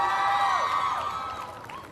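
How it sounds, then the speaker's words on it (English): Applause and cheering for faculty at a medical college graduation ceremony, a bright wash of crowd noise with shouts and whoops that fades gradually over two seconds. "Please give a big round of applause to our first year and second year faculty"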